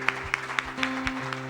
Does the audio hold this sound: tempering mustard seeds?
no